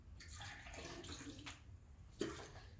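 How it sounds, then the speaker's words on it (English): Hot water from a Breville Barista Pro BES878 espresso machine dumped out into a sink: a short splashing pour, close and moderately loud, then a brief clatter. "Here's my hot water. I'm gonna dump it out,"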